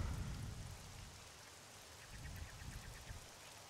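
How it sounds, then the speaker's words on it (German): Rain falls in the survival video game 7 Days to Die as a soft, steady patter with low rumbling underneath, faint and without talking. "Genau, es regnet."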